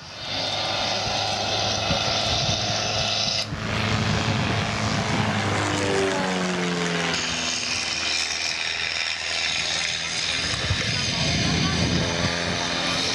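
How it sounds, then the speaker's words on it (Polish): A propeller aerobatic airplane performs at an air show in Gizycko, its engine droning and then rising and falling in pitch as it climbs and maneuvers overhead, while a commentator talks over the sound throughout. "samolot zatrzymuje się w powietrzu i rozpędza schodząc w górę"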